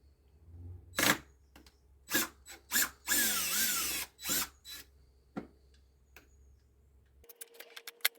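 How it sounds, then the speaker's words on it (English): A power drill fitted with a long extension bit whirs in a series of short bursts and one longer run while a Karcher pressure washer is taken apart. It is quiet and close, with silent gaps between the bursts. "Put a long extension on the drill as well to get into the deep"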